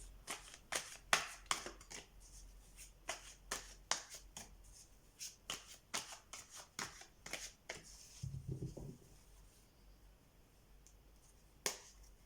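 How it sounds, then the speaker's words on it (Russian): Tarot cards being shuffled by hand: a quick run of crisp, papery slaps and riffles, close and fairly quiet, fading into a softer rustle near the end with no talking. "И давайте мы достанем, все-таки перемешаю карты."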